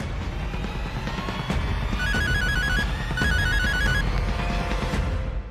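A mobile phone ringtone plays steadily for several seconds, a repeating electronic tone pattern over a busy background, with no talking.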